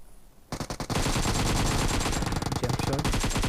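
Loud, sustained automatic gunfire from a mobile shooter game fills the mix during a jump shot, a dense rapid burst starting abruptly after a short quiet lead-in and continuing without a break.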